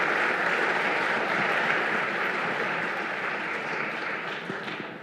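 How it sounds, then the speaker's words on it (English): An audience at a conference forum claps steadily, a dense wash of applause that gradually fades toward the end. "I think applause will be nice to accompany them."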